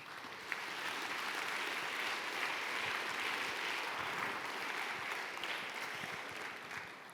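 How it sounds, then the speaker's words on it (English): An audience at an awards ceremony applauds in a steady, dense wash of clapping that holds for several seconds, heard from some distance at moderate level. "A round of applause, please."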